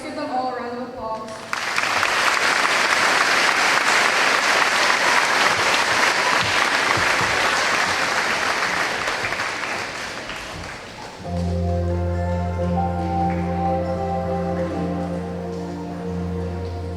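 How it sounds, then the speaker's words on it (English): Audience applause for World War II veterans at an entertainment event, a dense, loud ovation that swells after a moment, holds for several seconds, then fades as a sustained musical accompaniment begins. "let's give them all a round of applause"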